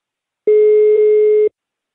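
On a prank call, one clean, loud telephone ringback tone sounds on the line, a steady one-second buzz standing alone in silence.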